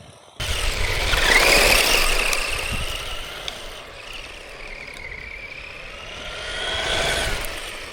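An Arrma Typhon 665 RC buggy running at full throttle outdoors, a high, whining motor buzz that swells and fades as it passes near and then moves off.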